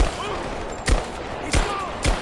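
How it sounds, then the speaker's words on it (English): Gunfire in the video game Tomb Raider, with three loud sharp shots spaced about half a second apart over a steady noisy battle background. "Give me cover! I'm under fire!"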